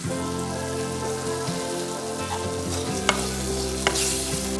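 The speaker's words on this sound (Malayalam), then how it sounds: "ഇനി ഇതിലേക്ക് കുറച്ച് കറിവേപ്പിൻ്റെ ഇല ഇട്ട് കൊടുക്കാം." Curry leaves drop into hot oil and masala for papaya pickle, a crackling sizzle with a couple of sharp pops over a steady low hum, close by, with no voices.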